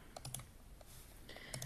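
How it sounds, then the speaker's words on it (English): Soft keystrokes on a computer keyboard while entering an email address and password come in two small clusters of light clicks with a pause between, quiet and close. "Then you just need to type in your email address, a password"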